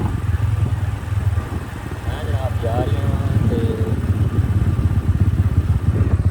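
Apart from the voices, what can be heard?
motorcycle riding on sand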